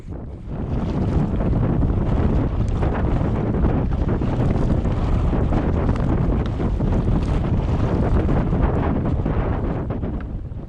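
Strong headwind roars across the microphone on a canoe trip down the Brightsand-Kopka River, a loud continuous buffeting rush with waves splashing underneath, steady throughout with no voices.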